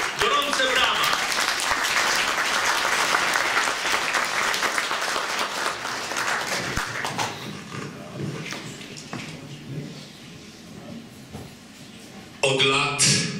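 An audience at a national pilgrimage gathering at Jasna Góra claps warmly for a primary school group from Częstochowa, a dense, loud wave of applause that slowly thins and fades, with a brief voice near the end.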